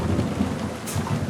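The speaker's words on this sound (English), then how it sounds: "Oh, that's a good old thunderstorm" Thunderstorm in the driving game American Truck Simulator, with a steady wash of heavy rain and low rolling thunder rumbling throughout, loud and continuous with no voices.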